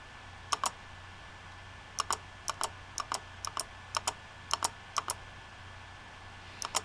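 Typing on a computer keyboard to enter text through an assistive interface: sparse, crisp key clicks in short clusters, close and clear over a faint steady background hum, with no talking.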